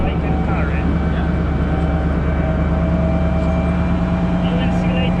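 Heavy military tank engine droning steadily while being driven in Poland, a constant loud low rumble with tonal hum, continuous throughout with a voice speaking briefly over it.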